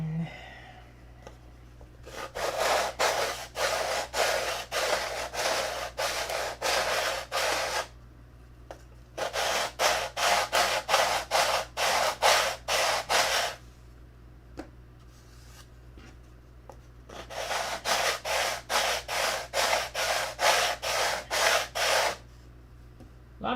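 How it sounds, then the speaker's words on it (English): A wooden block is rubbed back and forth over wood in three long rapid scraping sessions, each a dense run of rhythmic strokes, separated by short quiet pauses. "Now just block sand it."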